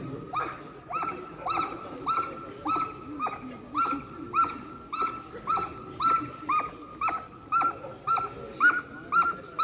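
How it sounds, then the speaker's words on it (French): A police dog barks and yelps repeatedly in a steady rhythm, moderately close, with faint background noise. "Le chien est toujours là, aux aguets."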